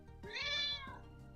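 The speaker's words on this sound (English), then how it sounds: "I like how whenever Pepper meows, it shows Pepper" A cat's single clear, drawn-out meow, close and fairly loud, rising and falling in pitch over a faint background hum, with no one speaking.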